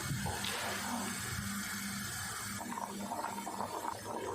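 Excess soaking water drains from soaked rice through a strainer while chana pulao is made, a steady close splashing and trickling of water that runs throughout without pause.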